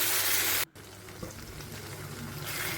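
Brinjal sizzles gently as it fries in a pan, a soft steady hiss broken by a brief dropout near the start, heard alone without talk.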